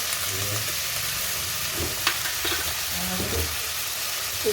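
Spices such as turmeric and ginger paste frying in a pan with chopped bottle gourd for dal, a steady broadband sizzle with a few scraping stirs of a spoon, close and continuous, no talking.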